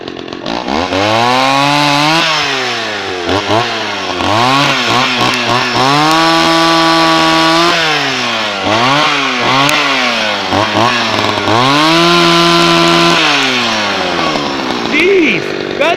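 A small chainsaw cuts through tree tops, its engine revving up and down repeatedly in loud, sustained whining pulses, with a voice talking under the noise.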